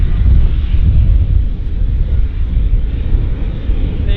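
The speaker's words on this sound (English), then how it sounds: "that was the Dallas-Fort Worth flight," An American Airlines flight inbound from Dallas-Fort Worth passes at Vancouver Airport as a loud, steady low engine roar with broad rumbling noise, continuous throughout.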